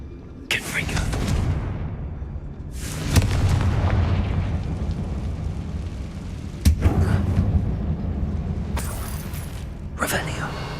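Fire spells in Hogwarts Legacy burst as several heavy booming explosions inside an abandoned mine resembling a tomb, loud and spaced a few seconds apart over a continuous low rumble.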